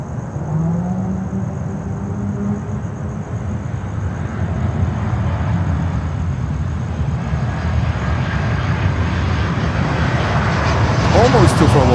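An Atlas Air Boeing 747-400 from Anchorage arrives at Miami airport, its jet engine roar swelling steadily louder as it approaches, with indistinct voices underneath.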